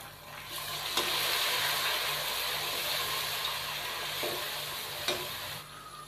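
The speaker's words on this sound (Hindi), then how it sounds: "अदरक लहसुन का पेस्ट और टमाटर शामिल करने के बाद हम इसको मज़ीद 2 से 3 मिनट भून लेंगे" Ginger garlic paste and chopped tomatoes frying with onions in a pot for a vegetable pulao: a steady, close sizzle throughout, with a couple of brief knocks as the mixture is stirred.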